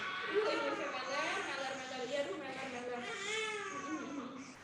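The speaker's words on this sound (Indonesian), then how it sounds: "Yang nangis siapa tuh?" A baby cries in wavering, sobbing wails, fairly faint and slightly distant, continuing through the clip over a quiet background.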